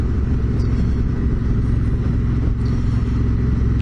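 A Suzuki DRZ400 motorcycle rides at steady speed on a road, giving a continuous loud engine rumble and drone mixed with wind noise and no change in pace.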